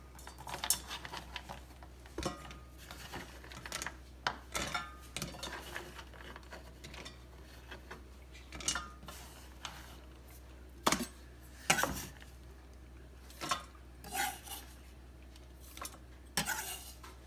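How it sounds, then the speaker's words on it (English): Ingredients for caramel snickerdoodle bars dropped into a pan, scattered clinks and taps of metal and utensils on cookware, intermittent and fairly quiet over a low hum. "Just throw this in my pan."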